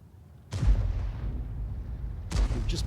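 E 100 tank in a multiplayer tank battle game fires shots into a bush, with two deep, heavy booms about two seconds apart over a low rumbling engine drone.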